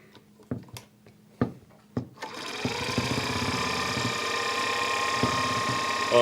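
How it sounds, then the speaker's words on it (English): Home sewing machine running a quarter-inch seam, a few clicks and knocks from the machine before the motor spins up into a loud, steady whirring stitch that carries on to the end. "I'm going to run another seam real quick."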